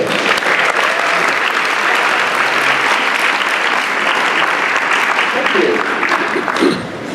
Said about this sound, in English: big round of applause, Peter Espersen